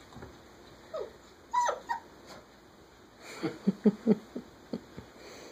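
A puppy whimpers and lets out a few high, squeaky yips in short irregular bursts, quiet and close, with a faint hum behind.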